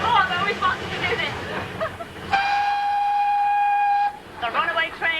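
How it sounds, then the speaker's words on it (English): A steam locomotive whistle blows off excess steam pressure in one steady, loud, high-pitched blast lasting a couple of seconds, with lively talk before and after it. "we were blowing off and we had too much steam pressure"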